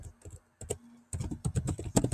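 Close, crisp keystrokes on a computer keyboard come in quick clusters with brief pauses between, clear and alone.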